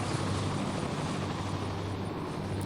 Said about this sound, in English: Helicopter's got a T for Tarsus.